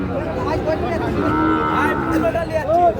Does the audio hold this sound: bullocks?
yes